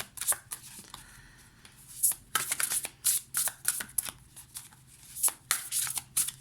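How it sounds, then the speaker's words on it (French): Large Beautiful Creature tarot cards are shuffled by hand in a run of crisp, riffling bursts and slaps, close up and fairly loud, with no talk. "les cartes sont un petit peu dures à mélanger parce qu'elles sont très grandes"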